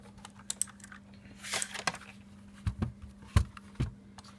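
Typing on a $35 Tomoko mechanical keyboard, with irregular crisp key clicks and clacks, some louder thocks, close and quiet with no talk.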